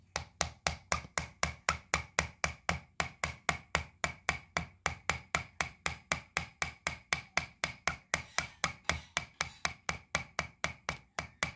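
A hammer strikes a chisel over and over at a steady, brisk pace while digging into rock for gems, each blow a sharp metallic crack, close and loud with no talking.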